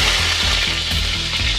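Garlic sizzles steadily in a hot pan with oil, a dense close frying hiss with slight rhythmic stirring pulses.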